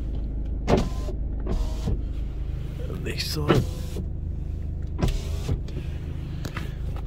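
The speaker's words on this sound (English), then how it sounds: "we're going to check all the windows" Electric windows of a BMW 120d M Sport running up and down in several short motor whirs over a low cabin rumble, with a voice speaking briefly.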